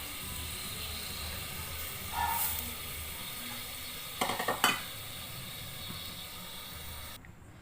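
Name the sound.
samak rice being added and stirred in a sizzling pan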